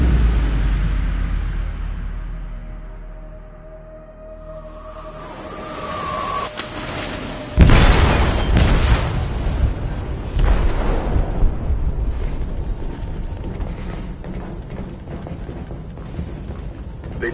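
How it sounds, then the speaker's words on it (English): An explosive detonates in a ship's hold in the Detroit video game: after a low rumbling lull, a sudden loud blast erupts, followed by a long roaring, crackling aftermath of debris and rumble. "They detonated an explosive in the hold."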